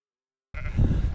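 A sheep bleats once on a Welsh mountainside after a moment of silence, a single close, fairly loud call that ends abruptly.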